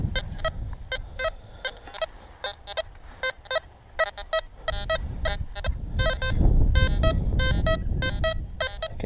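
An XP Deus metal detector gives warbling electronic tones that jump between pitches in rapid bursts, close and clear over rustling outdoor ground noise that swells toward the end.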